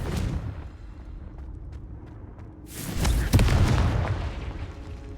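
A Confringo spell explosion goes off in the Hogwarts Legacy video game, a sudden loud blast with a sharp crack and lingering rumble after a quieter stretch of game ambience.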